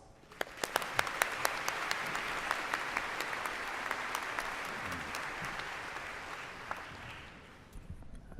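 A commencement audience applauds loudly to welcome Mayor Chris Watts, steady crowd clapping with a few sharp individual claps standing out, fading slightly toward the end.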